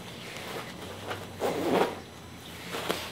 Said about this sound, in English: And if you want to tight feeling, you can also use the zipper.